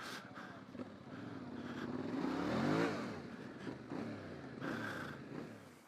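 A Yamaha Ténéré 700 motorcycle ridden off road, its engine droning and rising to a strong rev in the middle before easing back, heard fairly close and steady with no talk.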